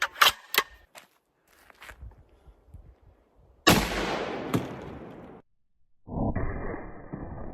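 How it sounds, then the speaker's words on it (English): A 50 BMG rifle is fired at body armor, giving a sharp blast that drops into a long roaring decay, followed by another burst of loud noise. A few faint knocks and footsteps come earlier, and no one speaks. "Let's shoot it with 50 BMG and see how that does."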